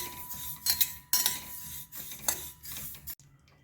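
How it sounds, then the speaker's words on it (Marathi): Sesame seeds being dry-roasted and stirred in a hot kadhai, with repeated clinking and scraping of a spoon against the metal pan in short bursts, fairly close and clear. "तीळ हे आपण 2 मिनिट छान भाजून घेणार आहोत."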